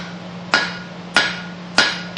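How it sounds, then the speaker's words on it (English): Three sharp, evenly spaced hammer blows ring out on steel knife stock resting on an anvil, each a bright metallic clank with a short ringing decay, heard close and alone over a faint hum. "Give it a hit, make sure it's indexed again."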